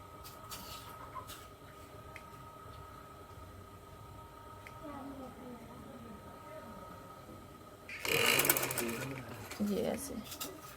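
A sewing machine stitches a dhoti shalwar with a steady, close whirring hum, then runs louder and faster near the end. A voice speaks at times.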